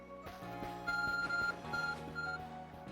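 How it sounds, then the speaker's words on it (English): An Arc Phone beeping in the video game Pokemon Legends: Arceus, a steady electronic tone pattern of repeated bright beeps over soft game background music, no voices. "your arc phone is beeping"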